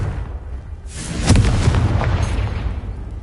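A Confringo spell explodes in the video game Hogwarts Legacy: a single deep boom bursts after a quiet second, then rumbles and crackles as it fades over the remaining seconds.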